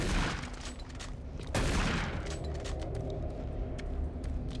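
The super shotgun in Doom 3 fires heavy, booming blasts, two or three loud shots spaced apart with rumbling decay between them, over dark ambient game sound.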